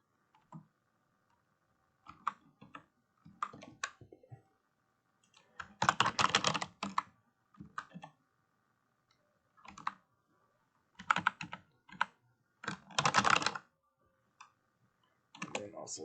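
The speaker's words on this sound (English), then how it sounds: "I'm just going to type some gibberish for purposes of showing you something in a second" Gibberish typed on a computer keyboard in bursts of rapid clicking keystrokes, clustered runs separated by short pauses, close and fairly quiet.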